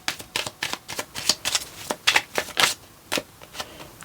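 Tarot cards are pulled from a deck in quick succession, giving a run of crisp papery snaps and flicks, close and fairly loud, with no talk.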